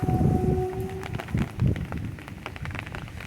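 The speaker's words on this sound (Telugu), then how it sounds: "వాన పడతానే ఉంది ఇంకా గాలి వస్తుంది" Heavy rain falls hard and steady with gusting wind, a dense wash of drops close by that swells and eases in places, with no voices.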